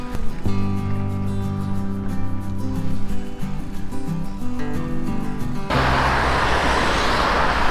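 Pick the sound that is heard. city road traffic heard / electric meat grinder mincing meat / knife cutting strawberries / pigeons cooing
city road traffic heard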